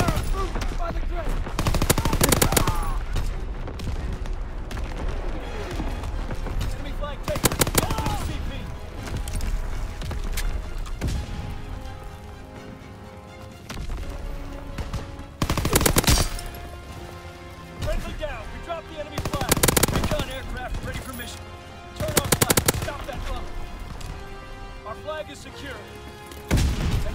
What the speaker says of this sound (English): Coordinates confirmed. Firing on target.